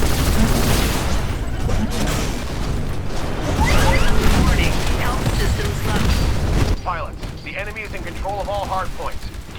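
Rapid automatic gunfire and explosions from the shooter video game Titanfall during a beta match, dense and loud throughout, with a voice briefly audible over the shooting.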